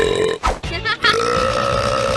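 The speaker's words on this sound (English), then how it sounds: "open his mouth to burp" A burping sound from an Ugglys gross-noise toy pet in a commercial, a loud drawn-out belch with a couple of short breaks, over backing music.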